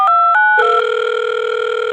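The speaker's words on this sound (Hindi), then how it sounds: "झट से उसके मम्मी को फोन लग जाएगा" A telephone gives a quick run of short electronic beeps, then settles into a steady, loud tone. No one speaks.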